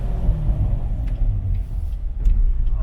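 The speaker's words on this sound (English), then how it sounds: "It gives you a pretty good echo of the sound of the car too." Chevrolet Corvette C7 Grand Sport engine rumbling steadily on a scenic road drive, a deep continuous drone with an echoing quality, fairly loud and close, no talking.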